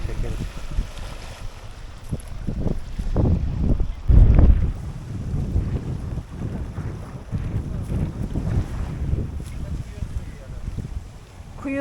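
Steady wind buffets the microphone on a sailboat out on open water, a low rumbling roar with gusts, while people talk faintly underneath.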